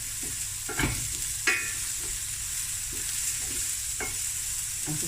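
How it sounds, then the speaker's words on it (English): Spiced mixture with green chilli and salt frying over medium heat in a pan, a steady sizzle punctuated by several sharp scraping stirs and knocks of a utensil, close and with no voices. "I'll just give this a fry"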